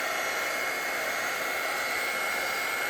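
A hair dryer blows steadily on a salted paint background, a close, constant whooshing roar that holds at one level from start to finish, with no speech.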